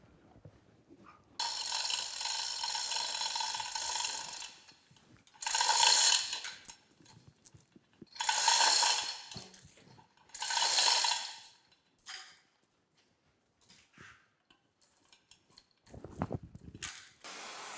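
A chain hoist on a workshop gantry lifts a bandsaw wheel, giving a long ratcheting rattle followed by three shorter bursts of clicking chain, with quiet pauses and small clunks between them.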